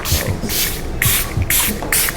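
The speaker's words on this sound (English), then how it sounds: "It says shake well and spray 10 to 12 inches away from the face." Several short hissing bursts of a makeup setting spray mister, about four or five quick puffs spaced roughly half a second apart, close and fairly loud.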